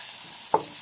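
Carrots dropped into a pan of bean sprouts cooking for lumpiang togue give a single brief, close sizzling hiss that quickly fades back into a quiet, steady cooking background.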